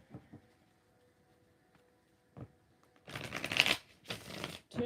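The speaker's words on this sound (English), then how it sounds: "Two more shuffles." Tarot cards shuffled close by in rapid riffling bursts, a long one followed by two shorter ones, after a quiet stretch with a few soft taps.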